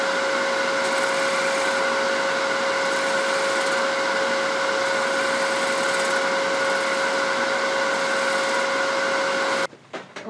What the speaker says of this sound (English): I think the easiest way to get that is going to be with this round bowl gouge, scraper.